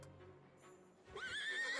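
Horse neighing in the life-simulation game Disney Dreamlight Valley, a single rising whinny that starts after a quiet lead-in with faint hoof sounds and ends loud and close, with no talking.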